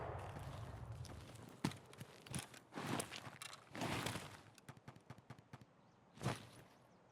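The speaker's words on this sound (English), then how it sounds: "I end up hearing a few footsteps, which is most likely somebody running towards the extraction point." Footsteps in the shooter video game Escape from Tarkov, a run of quick, fairly faint steps with irregular thumps and scuffs, some closer and louder than others.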